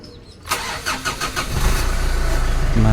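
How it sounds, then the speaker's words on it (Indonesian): A 2012 Mitsubishi Pajero Exceed with 91,000 km on it cranks over several times and catches, then settles into a steady idle, close and clear with no talking. "kita coba nyalakan mesinnya"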